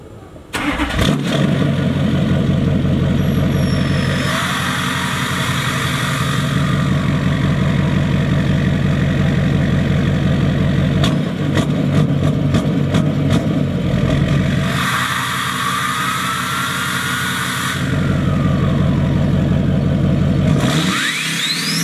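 A Duramax LMM diesel truck engine cranks and fires, settles into a loud, steady idle, then revs up twice in long sustained bursts.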